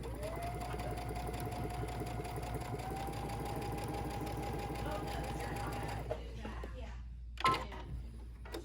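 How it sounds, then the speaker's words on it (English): A sewing machine stitches a fabric hexagon potholder piece, running in a steady, close mechanical whir for about six seconds before stopping, followed by a few brief handling knocks; someone talks over it. "same way, stitching this one on"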